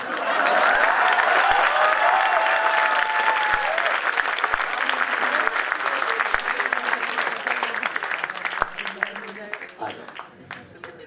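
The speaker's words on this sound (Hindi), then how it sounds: "इतनी तालियां तो मैं अकेला भी बजा सकता था।" Hindi kavi sammelan audience applauding a poet with dense sustained clapping and voices calling out over it for about nine seconds before it thins and fades.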